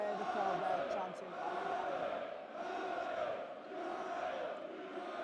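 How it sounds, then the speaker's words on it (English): Darts crowd at a packed Steel City event chanting together in a steady, loud roar of massed voices that swells and dips in waves, filling the hall continuously. "You can hear the crowd there chanting."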